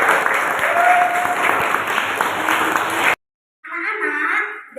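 Children in a classroom break into a burst of lively group clapping for about three seconds, then it cuts off abruptly and a voice speaks afterward.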